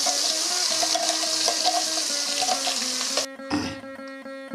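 Ground onion and tomato paste fries in hot oil with chilli powder, making a continuous loud sizzle and bubbling that breaks off abruptly near the end, leaving a few spattering pops.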